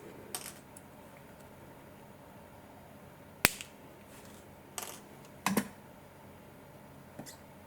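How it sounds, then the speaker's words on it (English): Jewellery wire on a wire-wrapped cabochon pendant trimmed with cutters, a handful of sharp, isolated metallic snips spaced a second or two apart, close and quiet against a faint room hush. "I'm going to trim these wires"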